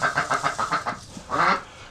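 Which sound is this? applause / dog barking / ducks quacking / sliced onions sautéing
ducks quacking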